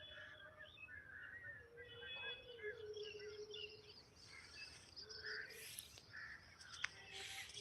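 Crows caw in scattered calls over a wheat field sown with flowering mustard on a morning farm, mixed with other bird chirps and faint background hum, moderately distant and fairly quiet.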